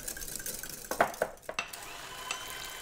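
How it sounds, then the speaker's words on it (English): A whisk clinks against a bowl while softened gelatin is stirred into warm custard, a few sharp metallic taps and scrapes over a soft background hiss. "I transfer it to a bowl and whisk in the softened, drained gelatin leaf and let it cool."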